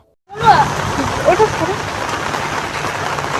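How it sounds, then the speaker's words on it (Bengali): Steady rainfall hissing continuously outdoors, fairly loud and close, with faint speech-like murmurs briefly audible near the start. "এই যে বৃষ্টির মধ্যে এসে আমি এখন পুরো ভিজে গেছে"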